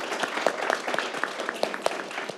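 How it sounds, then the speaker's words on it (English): An audience at a panel discussion on student parent data applauds, a moderate patter of individual claps that stays fairly even and close for a couple of seconds. "Let's give the panelists a round of applause"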